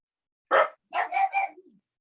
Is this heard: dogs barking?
yes